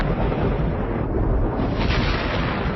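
Thunder from lightning in stormy weather, used as a drama sound effect: a loud, continuous rolling rumble fills the whole stretch with no voices.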